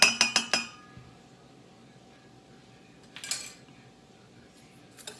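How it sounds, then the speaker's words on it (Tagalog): Egg for creme caramel mixed in a bowl: a quick run of four bright utensil clinks against the bowl, then a quiet pause and a few more scattered taps and clinks. "Ihalo natin ulit ang ating egg. Pero dahan-dahan lang."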